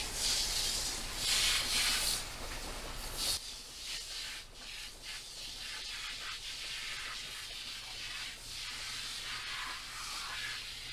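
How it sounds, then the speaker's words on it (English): A can of 409 carpet cleaner sprays onto a car's interior carpet in a loud, continuous aerosol hiss for about three seconds, followed by quieter rubbing and scattered faint hisses. "spray this 409 carpet cleaner on here"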